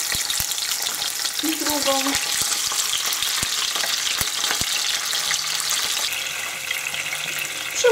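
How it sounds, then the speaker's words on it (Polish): Trout fillets fry in a hot pan over a medium gas flame with steady, bright sizzling and crackling throughout, a few soft clicks of a utensil, and a brief spoken word. "zmniejszam gaz na średni płomień i wkładam na patelnię rybkę"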